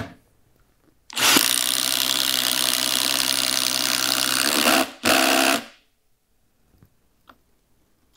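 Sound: Milwaukee M18 Fuel impact driver drilling a hole with a spade bit

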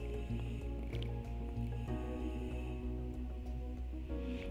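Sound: paneer sizzling as it is stir-fried in spiced masala

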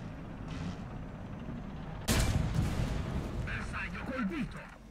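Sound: tank cannon shots in the video game War Thunder

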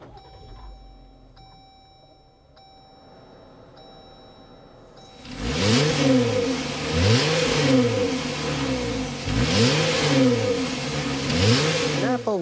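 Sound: 2024 Jeep Wrangler Rubicon X 3.6-liter V6 starting and revving

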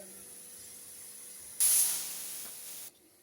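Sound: pressure cooker hissing steam before it whistles

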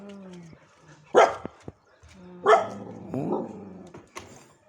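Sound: puppies barking

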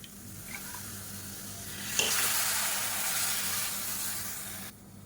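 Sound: water added to sizzling curry pan

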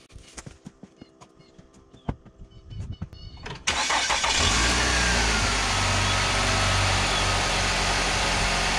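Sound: Nissan Altima engine starting after A/C compressor replacement

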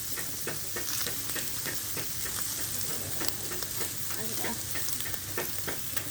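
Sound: meat sizzling on Thai mu kratha grill pan

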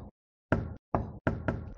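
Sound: knocking on a door, from a video game

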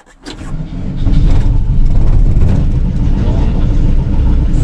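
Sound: VW T3 van engine being started cold

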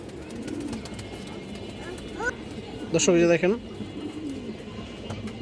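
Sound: pigeons cooing

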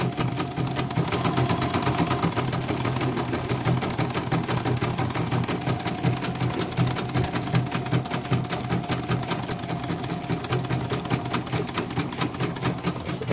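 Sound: embroidery machine running after repair

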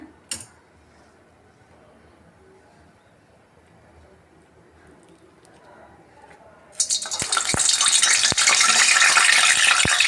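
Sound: vadas frying in hot oil

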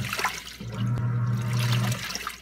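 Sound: Giantex portable washing machine filling with water

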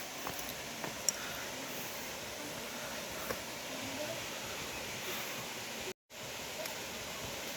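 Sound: Haew Suwat waterfall at Khao Yai

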